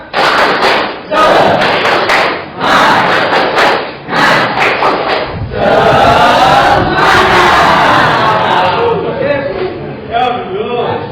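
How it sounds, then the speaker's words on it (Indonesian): A group performs a rhythmic spirit clap in a classroom-style session, loud bursts of clapping and chanting voices in repeated patterned phrases, swelling into sustained group shouting before tapering off. "Tepuk semangat"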